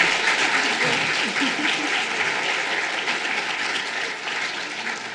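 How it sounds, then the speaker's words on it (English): Conference audience applauding steadily for about five seconds, a dense wash of clapping at even loudness that fades slightly toward the end. "let's please give another round of applause to Sujatha Baliga and Carrie Banks."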